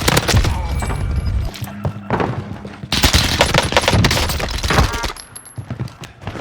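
Gunfire from an Uzi in a battle royale video game rattles in dense, rapid bursts, loud and close, with short gaps and a few thuds between volleys.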